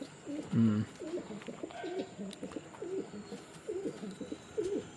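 Repeated low, soft cooing calls from pigeons, fairly close, in a steady rhythmic series with faint background noise.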